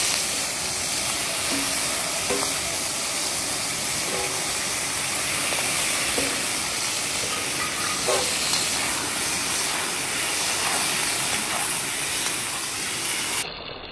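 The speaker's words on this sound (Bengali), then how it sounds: "বাকি মাছগুলো আমার সব ভাজা হয়ে গেল" Fish fries in a pan with a loud, continuous hissing sizzle that holds steady for the whole stretch, close up, with faint small pops and no voices.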